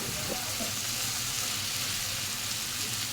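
Noodles go into a pan of sour tomato masala, giving a soft, steady sizzle and frying hiss with faint stirring clatter, moderately close and continuous without talk.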